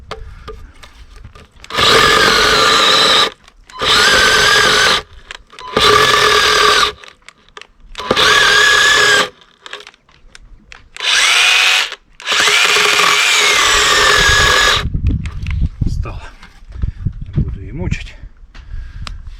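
A small handheld mini saw cuts through firewood in several loud, steady bursts of a few seconds each, separated by short pauses. Someone talks briefly near the end as the cutting stops.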